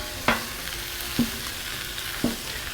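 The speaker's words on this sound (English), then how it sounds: "I'm only gonna use a little bit of oil here for the onions, really just to kind of help saute them, get them going here" Onions sauteing in a little oil on a flat-top griddle, a soft steady sizzle with three brief stirring scrapes spaced about a second apart.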